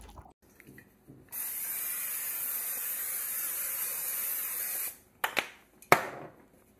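A can of Pam cooking spray is sprayed into a casserole dish in one continuous hiss lasting about three and a half seconds. A few sharp clinks and knocks of the dish follow, close by and quiet.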